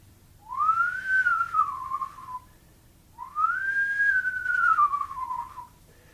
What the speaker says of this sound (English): I hear a whistling sound.